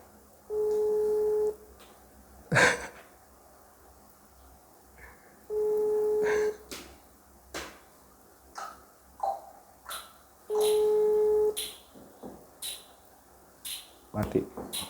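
Outgoing telephone call left unanswered: three steady ringback tones spaced several seconds apart, with people talking and moving around between them.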